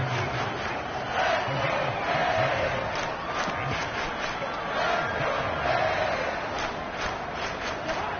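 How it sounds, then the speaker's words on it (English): Stadium crowd in the Madden 23 football video game, a steady broad roar of cheering that swells and dips, building ahead of a big third-down play between the Dolphins and Vikings. "The crowd getting into it as we come up on a big 3rd down."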